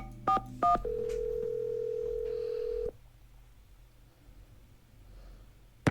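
Two quick touch-tone key beeps followed by a steady dial tone lasting about two seconds, then quiet, from a phone taking an outside line in a Nancy Drew detective game set at a law office.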